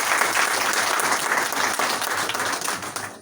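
Sustained audience applause at a public gathering, a dense steady wash of many clapping hands held at an even, loud level for the whole stretch and fading slightly at the very end.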